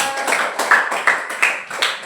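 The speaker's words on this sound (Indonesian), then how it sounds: "tepuk tangan buat Tika." A few hands clapping in a classroom for a student, heard as a handful of sharp, fairly close claps in an uneven rhythm over about two seconds.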